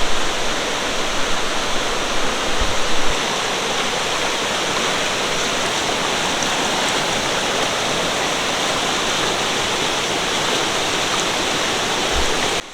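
A swollen river roars in the Great Smoky Mountains near Gatlinburg after Hurricane Ida's 36 hours of rain, a loud, steady, unbroken rush of water that fills the whole scene with no voices.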